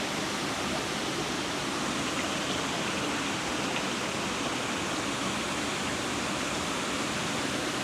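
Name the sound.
water going over Leichhardt Falls waterfall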